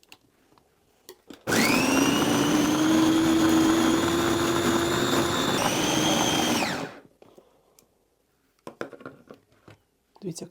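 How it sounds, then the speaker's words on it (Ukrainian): A blender whirs loudly for about five seconds, chopping onion and hot peppers, its pitch dipping briefly as it chops, then winds down and stops, leaving quiet clatter. "Теж треба перебити на блендері."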